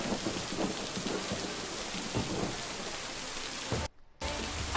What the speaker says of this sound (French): Ah, un orage.